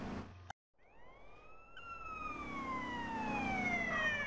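A police siren wails in GTA San Andreas, rising and sweeping in pitch after a brief cut and growing steadily louder over a rumbling vehicle engine.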